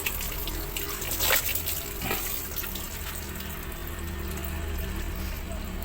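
Water poured over a chrome car emblem during cleaning, a steady running, splashing flow throughout with a couple of brief louder splashes, close by and alone.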